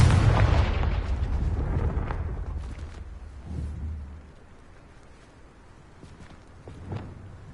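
A booming Confringo fire-blast spell from Hogwarts Legacy, one big burst at the start that rumbles away, followed by a couple of smaller thuds.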